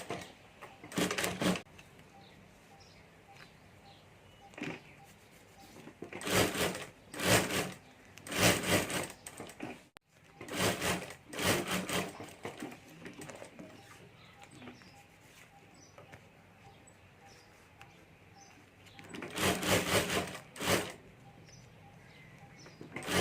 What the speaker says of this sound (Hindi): तो यहाँ ऊपर में सिलाई कर देता हूँ